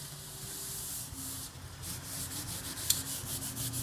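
Quiet rubbing and wiping strokes across an old tongue-and-groove wall surface, soft repeated swishes close to the microphone with a faint background hum.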